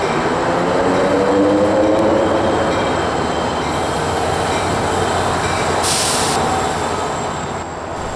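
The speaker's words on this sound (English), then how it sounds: "I was here in time for Tri-Rail train P673, the southbound 6 o'clock commuter going from West Palm to Miami." A Tri-Rail southbound commuter train led by F40 locomotives in classic paint passes close by, a loud, sustained rumble and rush of wheels on rail with squealing tones, easing slightly toward the end.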